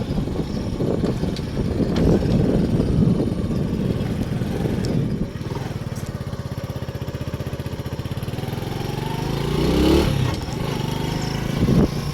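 A motorcycle engine runs steadily close by during an early-morning ride with a friend, a continuous low rumble that shifts in pitch partway through and swells briefly near the end, with no talking.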